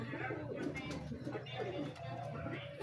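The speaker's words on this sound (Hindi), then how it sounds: "ये अली वाला कबूतर खालस कबूतर है" Low cooing of a big-breed pigeon at a breeder's loft, soft repeated coos with bird chatter close by under a steady noisy background, with some voices faintly present.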